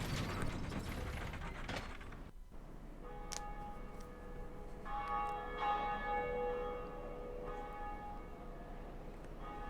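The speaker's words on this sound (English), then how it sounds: "that sounded one of the two bells that you have to do to move on" A bell in the Dark Souls video game, rung by pulling a lever: a grinding mechanical rumble and ratcheting gave way to a loud metallic clang whose long ringing tones sustain and repeat, fading slowly.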